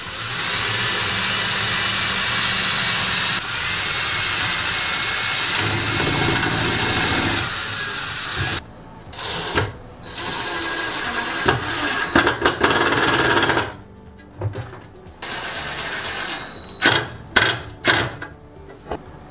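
A power drill drives screws into a wooden AC window bracket made from old pallet board, with long loud continuous whirring runs, then shorter bursts separated by pauses, close by.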